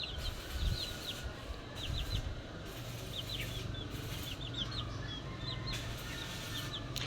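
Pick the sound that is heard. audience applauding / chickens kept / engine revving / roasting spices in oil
chickens kept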